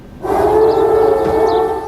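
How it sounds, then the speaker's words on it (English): A wailing air raid siren in Baghdad, 2003, rises in after a brief quiet and holds a steady, mournful tone, loud and sustained with a slight waver. "It was March of 2003 when air raid sirens sounded."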